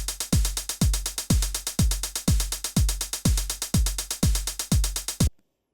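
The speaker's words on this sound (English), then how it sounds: "So our very rudimentary 1 bar beat sounds like this." A basic one-bar programmed drum beat with snare and closed hi-hat, stiffly quantized with no swing: a steady, loud run of hi-hat ticks and regular low-mid hits repeating for about five seconds before stopping abruptly.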